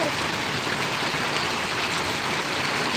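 Steady rain pours down in Paravadi village, a dense, even hiss of drops striking surfaces with no break, close and fairly loud.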